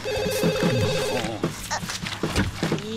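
A telephone rings in The Sims 2 with a steady electronic bell trill over game music, then stops as other short game sounds and a voice follow.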